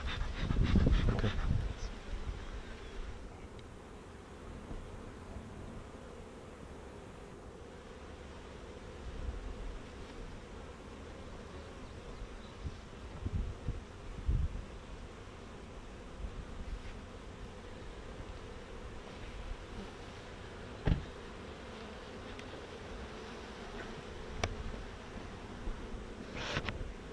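Bees buzz faintly and continuously around an open beehive during a group beekeeping lesson outdoors, a low hum with occasional bumps and handling noises close by.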